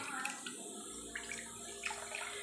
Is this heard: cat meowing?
no